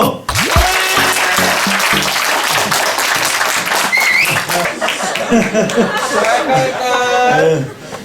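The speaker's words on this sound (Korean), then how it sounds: "다시 한번 박수." A school lecture audience claps loudly and steadily for several seconds, mixed with chuckles and chatter, while a voice speaks over the crowd near the middle.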